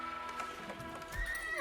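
A horse neighs in the Age of Empires 4 video game, a clear whinny amid hoof clip-clops and game sound effects, moderately loud with no talking.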